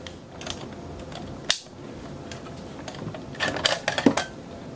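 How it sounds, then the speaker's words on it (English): Magazine pulled from an M14/M1A rifle and seated again, a sharp metallic click followed later by a cluster of close mechanical clacks and rattles over low room noise. "Magazine comes out. Magazine goes in."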